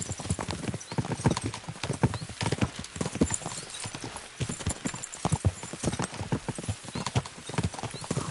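Horses gallop in the video game Kingdom Come Deliverance 2, their loud, close hoofbeats pounding in a fast, continuous clatter with no pause for the whole stretch.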